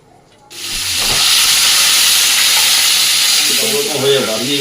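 Garlic and green chili hit hot oil in a wok and burst into a loud, steady sizzle that continues close up after a brief quiet start.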